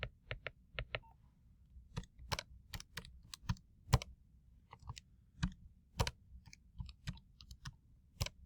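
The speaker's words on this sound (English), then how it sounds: "So to find x, I type in 4 times tangent of" Numbers being tapped into a calculator, a series of crisp, close button clicks in uneven bursts with short pauses, over quiet background hum.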